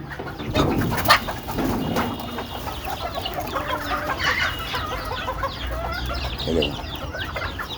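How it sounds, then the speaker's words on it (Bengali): Chickens, including young chicks, are let out of their enclosure with a busy run of clucking and calls, close and fairly loud, and a faint voice is in the background. "এই যে মুরগিগুলো ছাড়তেছি আপনারা দেখতে থাকুন"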